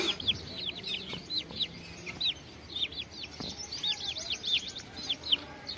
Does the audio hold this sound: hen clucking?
yes